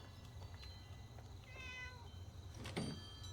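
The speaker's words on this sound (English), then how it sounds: "Oh, there's a cat right there." Cat meowing in the Fallout 76 video game, a couple of short tonal mews near the middle over low ambient game hum, followed by a brief thunk-like clatter.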